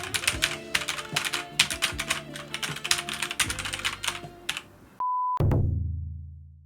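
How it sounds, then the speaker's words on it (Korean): Rapid clacking keystrokes and clicks on a computer keyboard, steady and close, ending with a short electronic beep and a resonant tone. "키보드 마우스 활용 싹 한번 보여주고 클릭 소리 어떤지 한번 보여주고"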